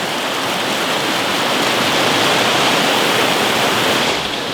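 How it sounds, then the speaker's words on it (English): A loud river roars continuously beside a sandy stretch of a military training ground, a dense, unbroken rushing wash of water that stays close and steady throughout. "I don't know how nice it'd be to camp listening to that river roaring because it's quite loud."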